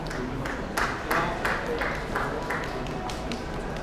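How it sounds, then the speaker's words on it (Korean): Audience applause greeting a Hyundai designer at a Genesis G80 Sport presentation, a continuous spread of many hands clapping with some louder individual claps standing out, steady throughout. "큰 박수로 맞아주시기 바랍니다"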